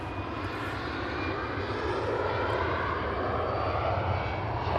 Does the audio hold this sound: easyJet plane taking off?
yes